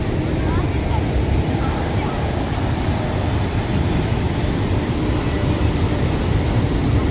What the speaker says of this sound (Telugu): ఈ ఫ్లైట్ వెళ్తుంది ఇక్కడ